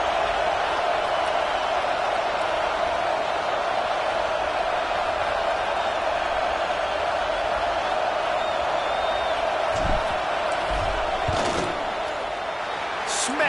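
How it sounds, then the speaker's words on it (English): Stadium crowd at an Illinois vs Penn State college football game roars steadily through a field goal attempt, a dense wall of cheering with a few sharper shouts and thumps near the end. "This crowd trying to do its part to get inside the kicker's head"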